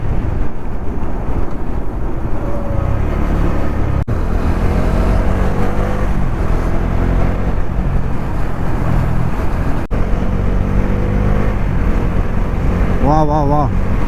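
A motorcycle engine drones steadily at highway speed with heavy wind rumble, a couple of brief knocks, and a short horn-like tone near the end.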